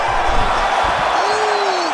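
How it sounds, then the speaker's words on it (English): A roaring arena crowd in the UFC 5 video game swells during a Paddy Pimblett vs Muhammad Mokaev fight night bout, a dense, steady wall of cheering noise that holds loud for the full two seconds. "crowd pops as he gets out again"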